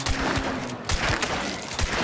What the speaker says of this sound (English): you're just shooting on everything